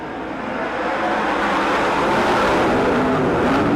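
410 sprint cars race a heat at Merced Speedway, their engines blending into a loud, sustained roar that swells as the field takes the green flag.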